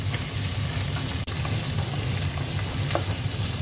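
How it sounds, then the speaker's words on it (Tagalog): Peeled, cleaned shrimp stirred in a frying pan: a dense, continuous sizzle with faint scraping of the spatula, steady and close, with a brief cut in the middle and no talk. "habang hinahalo natin mga kaibigan ang ating inilagay na hipon"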